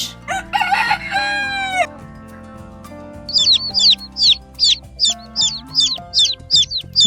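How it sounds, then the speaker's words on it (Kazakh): A rooster crows at the start over light music, then a quick series of high, evenly spaced chirps follows. "Әтеш осылай шақырады."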